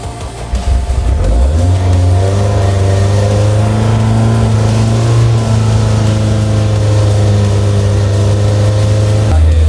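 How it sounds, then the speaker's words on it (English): Freshly rebuilt car engine starting for the first time, catching after a brief crank and then revving and holding a loud, steady droning idle close by before cutting off abruptly near the end. "We got an engine."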